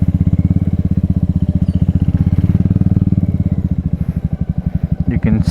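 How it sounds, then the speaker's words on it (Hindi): A Royal Enfield Meteor 350 motorcycle rolls along slowly, its single-cylinder engine thumping in a steady, close, loud rhythm that grows slightly uneven near the end. "चलते हैं धीरे धीरे, बाइक का तो कुछ होगा नहीं।"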